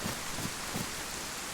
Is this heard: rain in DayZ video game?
yes